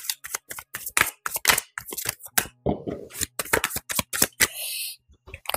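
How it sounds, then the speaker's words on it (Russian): Tarot cards being shuffled and handled, a quick run of sharp riffling flicks and slaps, close and crisp, with one brief softer rustle. "Карты у меня прям выпадают как-то сами сегодня"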